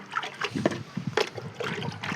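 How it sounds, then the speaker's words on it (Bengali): Water poured onto the soil of a potted mint cutting, a close, uneven trickling and splashing in short bursts without talk. "এই যে পুরো আমি জল দিয়ে দিলাম, পুরো মাটিটাকে জল দিয়ে ভিজিয়ে নিতে হবে।"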